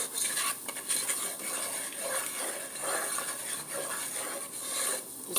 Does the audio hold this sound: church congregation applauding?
no